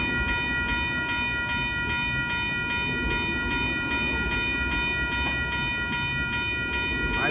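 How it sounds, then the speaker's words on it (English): An Amtrak Coast Starlight passenger train passes by 98th Avenue in Oakland, California, on a cold day, with a steady, loud rumble of rolling cars and rail noise continuing throughout. "train is going to Los Angeles"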